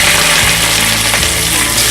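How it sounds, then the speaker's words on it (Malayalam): Basmati rice with cloves and cardamom sizzles and hisses steadily in a hot pan, a loud, dense, continuous frying sound with no voices. "നമ്മൾ നേരത്തെ എടുത്തു വെച്ചിരുന്ന അരി ഒന്നെടുത്ത് ചെറുതായിട്ടൊന്ന് ചൂടാക്കാം"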